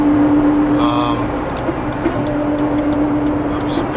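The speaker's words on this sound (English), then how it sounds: "very busy traffic" Heavy road traffic rumbles steadily and loudly nearby, with a constant engine drone, passing vehicles and a brief higher tonal whine early on.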